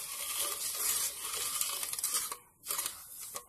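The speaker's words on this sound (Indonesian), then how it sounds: "Kita aduk rata." A utensil scrapes and swirls through sugar, cooking oil and water in a pan, a close continuous gritty stirring with a brief pause and small clinks.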